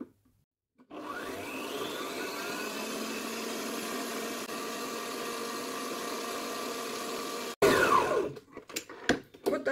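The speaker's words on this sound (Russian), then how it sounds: "Добавляем сахар и взбиваем уже на максимальной скорости" An electric mixer on maximum speed whips eggs with sugar for an apple cake batter, giving a steady, loud whir for several seconds. It cuts off abruptly and is followed by a few clattering handling sounds.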